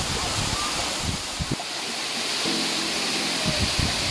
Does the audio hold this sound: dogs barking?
no